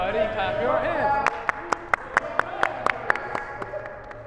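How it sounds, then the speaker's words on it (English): A handful of people clap their hands in a loose, roughly steady rhythm of about a dozen sharp claps, heard after a voice speaks at a slapball game. "Everybody clap your hands."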